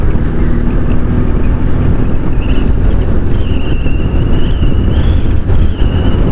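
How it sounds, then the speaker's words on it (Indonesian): Strong wind roars across the microphone while riding a motorbike on a road in Jember, a loud, constant rushing buffet with a faint whine rising in the background. "anginnya juga kencang di sini guys"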